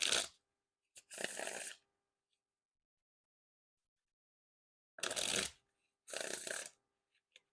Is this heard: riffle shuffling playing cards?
yes